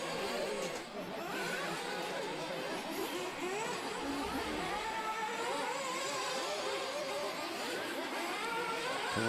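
Nitro-powered 1:8 RC buggies race around an outdoor off-road track at a European championship final, a dense, steady high-pitched engine buzz with rising and falling whines, under a commentator's voice.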